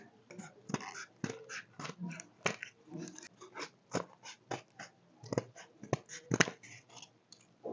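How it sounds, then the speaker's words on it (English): Scissors snip through ball gown fabric along a marked circle, a rapid run of short, sharp cuts close by with brief pauses between bursts and no talk. "Next thing, we'll cut out the circular shape."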